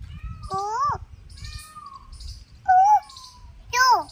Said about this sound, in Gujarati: મોરલો કેમ બોલે ભાઈ?